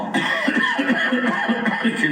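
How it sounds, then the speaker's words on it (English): A person fakes a short, voiced cough, a few staged throat bursts with a chuckling edge, loud and close, alone without other sounds. "What the fuck kind of fake cough was that?"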